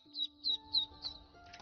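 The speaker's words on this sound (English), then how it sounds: "even with the noisy birds" Faint, thin chirps of birds in the video game Skyrim, a few short high calls spaced apart over a quiet ambient backdrop.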